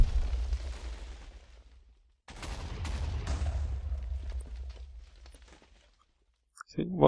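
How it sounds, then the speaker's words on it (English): A fragment missile in the game Voltz hits the ground and bursts into many smaller explosions: a long, loud rumbling barrage of blasts that drops out briefly, roars back, then fades toward the end. "It hits ground and fires off lots of smaller explosions around it."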